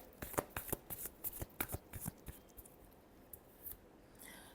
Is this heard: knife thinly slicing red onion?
no